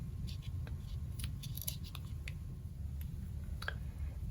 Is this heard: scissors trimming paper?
yes